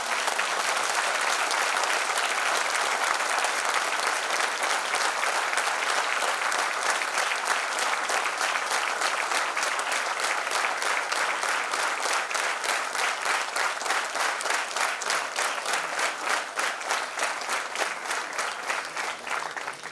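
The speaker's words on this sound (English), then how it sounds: "May I request you to collectively give a huge round of applause to us." A large seated audience at an evening felicitation of organ donors and their families gives a sustained, dense round of applause, steady and loud for about twenty seconds with no speech over it.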